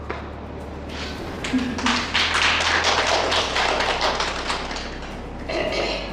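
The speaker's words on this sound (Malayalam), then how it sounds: "ഞാനിവിടെ ടൈപ്പ് ചെയ്തിട്ട് ഞാൻ ലോക്ക് തുറക്കുന്നുണ്ടാവട്ടെ" A code is tapped into a lock keypad at a mentalism stage show: a quick run of short, sharp taps close by, steady for several seconds over a faint room hum.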